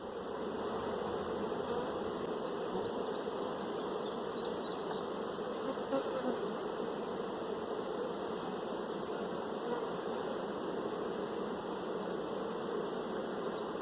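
Honey bees from an angry hive drone in a dense, continuous buzz that holds steady and fairly loud throughout, with no voices over it.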